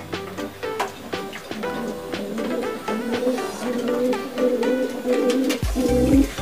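Domestic pigeons, some bleached, coo repeatedly at close range, their soft rolling calls layered over one another with no talk.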